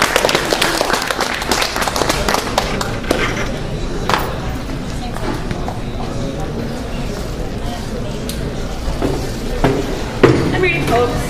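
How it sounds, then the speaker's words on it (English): A small open-mic audience applauds a poet in a room, a brisk patter of clapping that is strongest at first and fades into lighter scattered claps and room murmur. "so please give her a round of applause"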